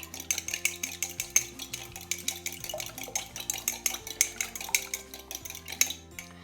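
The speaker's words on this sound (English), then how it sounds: "And mix that up with a fork. Beat it real good" Fork beating egg and a splash of water in a bowl for an egg wash, a quick steady run of light clinking and tapping strokes against the dish, close and continuous with no talking.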